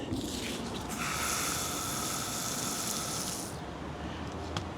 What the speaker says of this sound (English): let me water this marigold